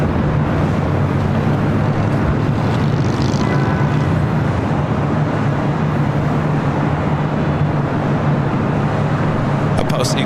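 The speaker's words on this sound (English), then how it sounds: "the A380 Super coming in from Seoul" An Asiana Airlines Airbus A380 arriving from Seoul at LAX, a loud, steady broadband jet roar that holds for the whole stretch, with a low engine hum beneath and talk mixed in.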